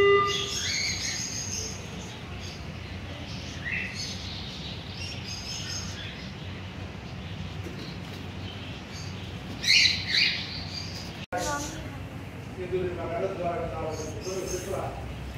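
Birds in a zoo aviary chirp and tweet in short bursts, some bright and close, with a few sharp calls, heard under steady background noise while a person talks.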